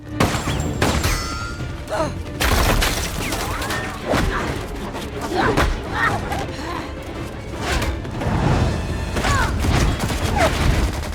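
Explosive rounds detonating fuel storage tanks in a city during a film battle scene set on the planet Pandora: a dense, loud, continuous barrage of bangs, crashes and booming blasts over a heavy rumble, with bursts every second or so.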